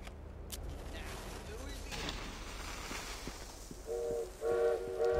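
A steam train moves in the Victorian London setting of Assassin's Creed Syndicate, a steady rolling rumble with clanks, then repeated loud whistle blasts near the end.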